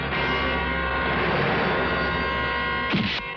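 A harsh, continuous bell rings loudly and without pause, with a brief clatter near the end.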